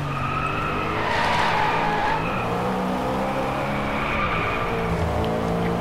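Race cars in the video game Driveclub skid with long, wavering tire squeals over the roar of their engines. The screeches rise and fall, loudest in the middle, against a steady racing backdrop with no voices.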